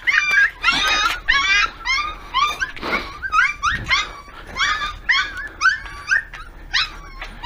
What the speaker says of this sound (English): You're okay, puppies.